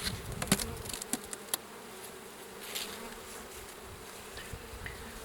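Steady buzzing of many honey bees around a hive during a spring check, with a few sharp clicks and knocks early on.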